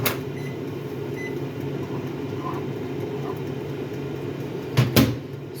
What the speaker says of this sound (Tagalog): Nilagay ko sa microwave.